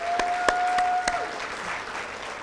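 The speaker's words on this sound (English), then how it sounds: "So round of applause for everybody." Round of applause from a conference audience at a pet professionals' summit in Tampa, a steady wash of many hands clapping with a few sharper claps standing out, fairly close and continuous.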